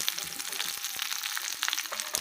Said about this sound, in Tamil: இப்போ தாளித்து கொட்டிடணும்.